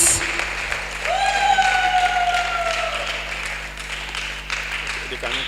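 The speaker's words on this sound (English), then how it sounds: "Can we clap more for Jesus?" An audience claps for a guest speaker at a CV writing and LinkedIn workshop, a sustained wash of applause with a rising whistle-like tone threading through it, fairly close and steady.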